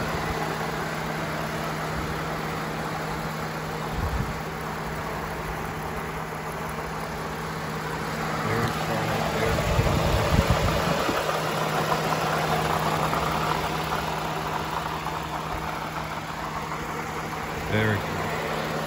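A 2009 Toyota Avalon Limited's V6 engine idles with the hood open, giving a steady low hum with a constant tone. The rumble swells briefly in the middle before settling back.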